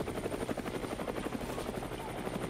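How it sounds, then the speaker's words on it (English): A helicopter sound effect played during a game session, with a steady, rapid rotor chop throbbing continuously at moderate volume throughout. "I'm gonna turn on my helicopter sound effect"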